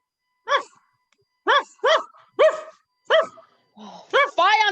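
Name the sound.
dog barking, staged reading sound effect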